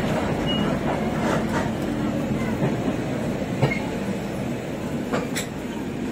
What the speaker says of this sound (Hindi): झांसी सीड का इलेक्ट्रिक लोकोमोटिव लगा हुआ है यहाँ।